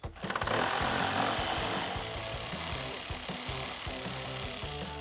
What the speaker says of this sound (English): So I'm gonna use a 10mm socket to remove those 2 bolts.